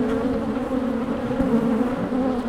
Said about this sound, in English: So the bees, in reality, that's just a defensive mechanism.